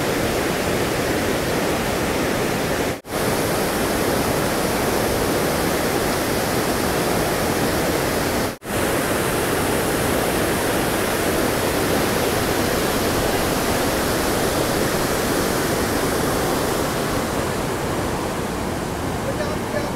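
Bhatinda waterfall in full flow at a crowded tourist spot gives a loud, unbroken roar of rushing water. The broad wash of sound runs steadily throughout and cuts out briefly twice.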